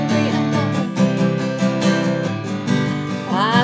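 Acoustic guitar strummed in a chorus pattern, a steady down-up rhythm of bright, full chords ringing loudly and continuously without any voice.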